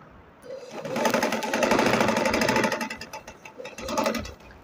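A sewing machine, run at an easy pace, stitches a cord into the middle of a seam with a close, steady buzzing whir that swells, eases briefly, then picks up again.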